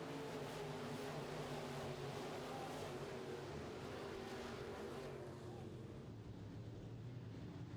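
Midwest Modified race cars run around a dirt oval track, a continuous loud roar of engines that swells in the first half and then eases off slightly.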